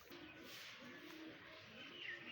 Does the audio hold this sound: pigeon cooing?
yes